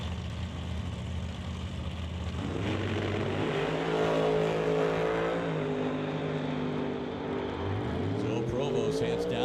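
A dragster and a Camaro make a drag race pass at the T&T West Coast Classic, engines rising in pitch as they accelerate away, loud and sustained over steady crowd and track background noise.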